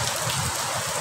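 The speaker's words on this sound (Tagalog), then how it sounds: "Dahil sa lakas po ng ulan, sumisilong pa po kami dito." Heavy rain pours down beside a dead mangrove, a loud, unbroken rushing roar that fills the short moment with no voices.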